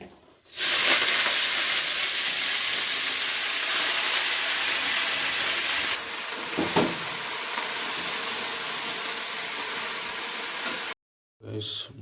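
Greens sizzle loudly in hot oil with garlic and dried chilli, a steady bright hiss that rises sharply as the leaves hit the pan and continues for about ten seconds before cutting out abruptly.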